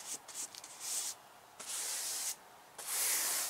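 Blue paint sprayed over green paint on patio furniture comes in four hissing bursts of varying length, close and fairly loud, with short quiet gaps between them and no talk.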